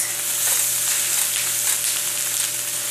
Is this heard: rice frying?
yes